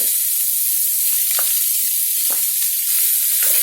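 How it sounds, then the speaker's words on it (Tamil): Onion and grated carrot sautéing in a pan, a steady close sizzle of frying with occasional soft stirring scrapes and knocks, no voices. "வெங்காயம் நல்லா வதங்கட்டும். ரொம்ப வதக்க வேண்டாம்."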